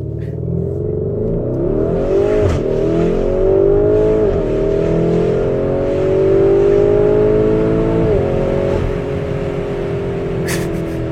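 A Lamborghini Urus launches hard and accelerates, its loud engine roaring with rising gear sweeps and brief shift dips, heard steadily from close by.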